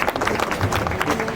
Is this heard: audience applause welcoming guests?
yes